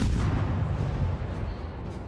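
Wickes destroyer guns in World of Warships fire heavy booming salvos, a dense low rumbling roar that stays loud and sustained throughout with no voices.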